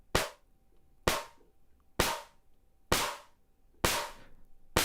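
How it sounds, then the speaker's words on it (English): Synthesized snare drum from a drum synth module with the snares control turned up, five evenly spaced sharp noisy hits about a second apart, each a bright crack with a short hissing decay over a faint steady tone. "as you turn this up, you start to hear more of the snare"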